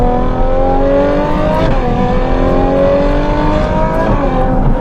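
A Novitec-tuned Ferrari 12Cilindri with an Inconel exhaust accelerates hard, its V12 wail climbing steadily and loud through several rising sweeps, close and continuous with no talk.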